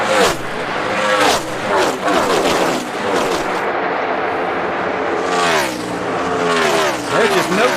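NASCAR stock cars roar past at speed during a 2014 Cup race, engines revving loudly with sweeping Doppler passes over crowd and track ambience, while a commentator talks throughout.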